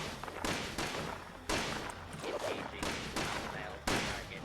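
Bursts of enemy gunfire from a scorched in the video game Fallout 76, loud, close, rapid volleys in several separate strings with brief gaps between them.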